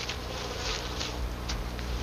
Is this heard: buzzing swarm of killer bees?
yes